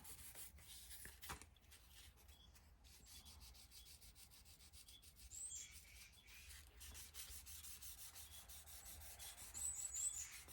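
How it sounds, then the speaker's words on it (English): Sanding a shotgun stock by hand, a faint, steady rasping rub of abrasive on wood repeating in soft strokes, with no talking. "And get it sanded out."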